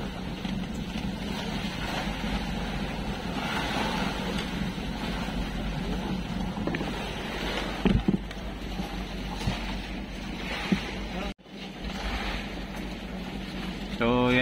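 A small wooden fishing boat sits out on open sea, its engine a low steady drone under wind rumble, with people talking over it and a few knocks and bumps.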